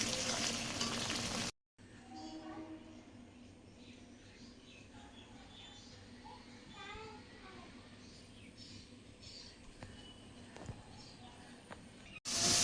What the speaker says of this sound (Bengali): তেল ছাড়া অবধি মশলাটা কষিয়ে নিতে হবে সুন্দর করে।